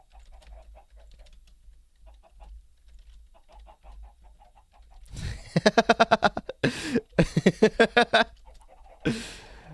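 Chicken clucks in the Minecraft video game, a rapid run of short, loud squawks in the second half of the clip after near-silence, ending with a single louder cluck.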